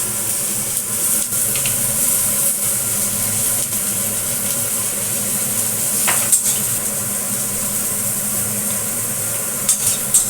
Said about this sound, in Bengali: একটু হালকা একটু ভাজা ভাজা হবে,